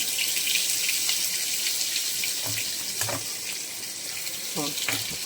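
Cumin and ginger paste frying in hot oil for a fish head curry with taro, giving a loud, continuous hissing sizzle with a few faint clinks and stirring sounds close by.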